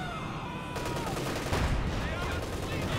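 Machine gun fire in Company of Heroes 2 crackles in a dense, continuous stream of rapid shots amid battle noise, with a voice commentating over it.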